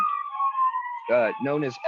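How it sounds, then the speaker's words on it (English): Emergency siren wails steadily from outside in Texas, a rising-falling tone heard at a distance, then a voice talks over it in the second half. "Sorry for the ambulances and stuff."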